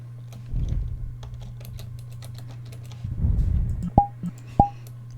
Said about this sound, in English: A moment of typing.